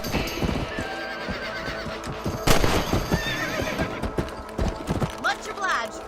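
A horse in Red Dead Redemption whinnies loudly mid-clip with a second neigh near the end, over steady hoof clip-clops, with game voices talking throughout.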